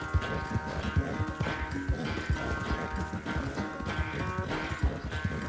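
Horse hooves clip-clop at a steady gallop in Red Dead Redemption 2, dense rhythmic thuds under a layer of game music and ambience, with a faint whinny.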